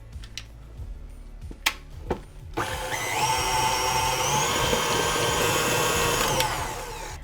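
An electric mixer at high speed whips cream cheese frosting for a Jamaican ginger cake, starting after a few clicks and knocks and then running as a steady, loud whirring drone that fades slightly toward the end.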